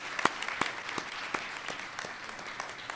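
An audience at a youth oratorical contest claps in a thin, scattered round, with distinct individual claps standing out near and sharp over a softer patter of hands.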